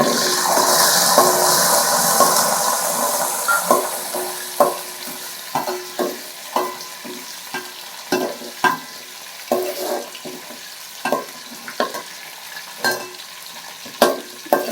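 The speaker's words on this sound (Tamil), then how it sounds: "இப்போ வெங்காயத்தை போடும்" Onions for a Tamil fish curry hit the pan with a loud initial sizzle that fades, then give way to a steady series of sharp scraping stirs, close by.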